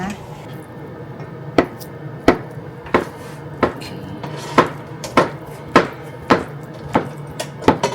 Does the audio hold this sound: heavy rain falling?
no